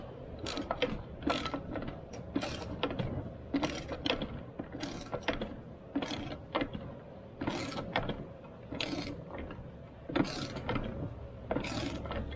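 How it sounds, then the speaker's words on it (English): A hose crimper presses custom A/C hose fittings for a 1977 Pontiac Trans Am, giving faint, repeated ratcheting clicks and mechanical creaks at an uneven pace. "When it hits that, we should be fully crimped."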